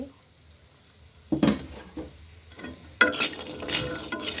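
Pumpkin lentil dumplings (kumro bori) fry in oil in a pan, with irregular bursts of stirring and scraping over a low sizzle that grows busier toward the end.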